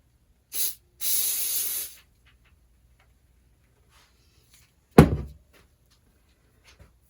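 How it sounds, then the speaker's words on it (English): Two short hissing bursts of spray adhesive, then a sharp clunk and a few faint ticks in an otherwise quiet woodturning workshop. "Some of these spray adhesives are awful."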